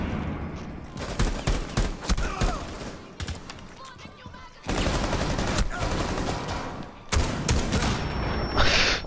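Rainbow Six Siege Terrorist Hunt gunfire crackles in dense, rapid volleys of shots with sharp bursts throughout, mixed with heavy combat noise and players talking.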